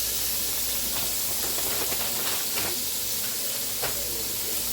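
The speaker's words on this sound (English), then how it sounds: "I'm going to start sauteing my vegetables" Frozen vegetables sauté in a pan for a spicy Creole jambalaya, giving off a steady, loud steaming hiss with faint crackles throughout.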